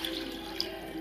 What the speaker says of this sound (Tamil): இதுக்கப்புறம் தண்ணி ஊற்றுறது தான்.